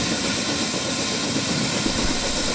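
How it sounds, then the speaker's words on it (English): A helicopter drones steadily at an airport, heard from inside a departure lounge: a loud, continuous engine and rotor roar with a high whine on top and no breaks. "we watched helicopters coming and going through the large window of the departure lounge"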